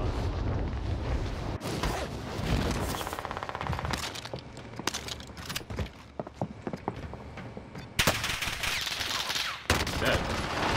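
Sustained, dense gunfire in a multiplayer shooter video game, a rooftop shooter firing rapid repeated bursts that stay loud and continuous throughout, with a few sharp cracks standing out.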